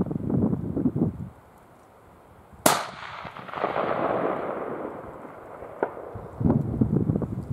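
A 6mm Creedmoor rifle firing a 108-grain ELD-M bullet at an 822-yard target: one sharp, loud crack that rolls into a long fading echo, with wind noise and faint voices before and after.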